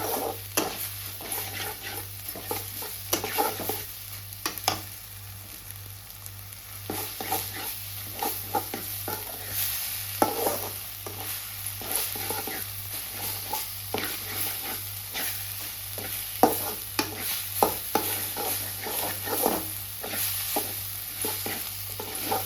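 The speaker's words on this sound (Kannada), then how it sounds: "ಈ ಥರ ಮಿಕ್ಸ್ ಮಾಡ್ತಾ ಇರೋದು ನೋಡಿ, ತುಂಬ ಟೇಸ್ಟಿಯಾಗಿರುತ್ತೆ" Egg bhurji is stirred in a pan over a steady frying sizzle, with rapid spatula scrapes and taps recurring throughout at close range.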